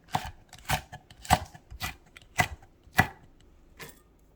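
A knife cuts vegetables into long strips on a cutting board, about eight separate crisp chops at an uneven pace, close and clear with no talk.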